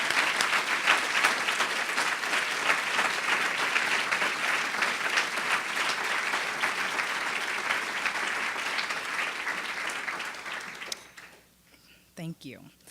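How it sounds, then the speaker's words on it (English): Sustained applause from a seated audience for December graduates at a university program celebration, steady clapping for about eleven seconds before fading out, followed by a voice beginning to speak. "Please help me in applauding these December grads"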